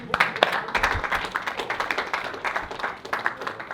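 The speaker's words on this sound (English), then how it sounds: "I think we need to give a round of applause." Audience applause in a lecture hall after a talk on the African origin of Greek education, steady scattered clapping with sharp individual claps throughout, moderately loud and close.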